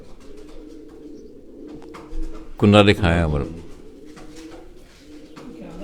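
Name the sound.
pigeon cooing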